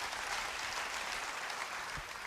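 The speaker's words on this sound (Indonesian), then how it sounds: "Beri tepuk tangan bagi dia." A church congregation claps in soft, continuous applause that sounds somewhat distant and muffled in a large room.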